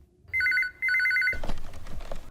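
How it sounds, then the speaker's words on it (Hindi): A home telephone rings in two loud, trilling electronic bursts with a short gap between them, then the ringing stops and background voices and room noise take over. "फोन क्यों नहीं उठा रहा कोई?"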